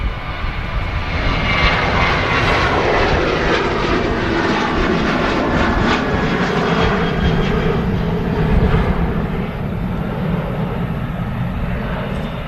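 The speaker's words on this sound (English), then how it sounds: "Here comes the Emirates A380 taxiing past us." An Emirates Airbus A380 airliner taxis past at Manchester Airport, its jet engines giving a loud, steady roar and whine that holds evenly for over twelve seconds with no speech.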